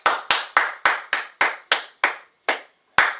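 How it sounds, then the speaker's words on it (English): Ten sharp hand claps in a steady, slightly slowing rhythm, close and loud, with a short gap before the last clap, given during a basic military training PT session. "I'm clapping sarcastically."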